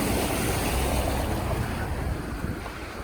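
Flood water over a road, a loud continuous rushing wash with broad windy noise and no pauses.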